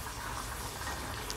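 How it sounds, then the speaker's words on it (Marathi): Vegetable bhaji curry boiling in a pot on a home gas stove, a steady close bubbling and simmering hiss that runs without pause and stays alone, with no talk over it. "इथं भाजीला पण उकळी येते"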